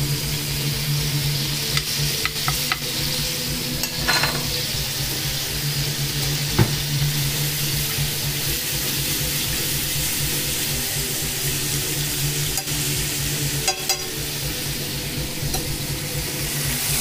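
Garlic fries in oil in a pan with a steady, moderate sizzle, punctuated now and then by light stirring clicks, alone without voices.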